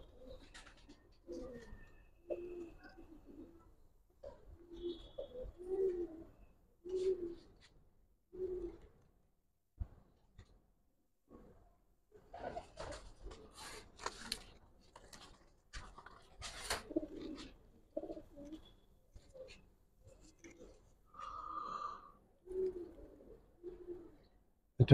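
Giribaz pigeons cooing close by in a quiet coop, soft low repeated coos in short bursts with pauses, alongside scattered rustles and flutters; a person speaks briefly.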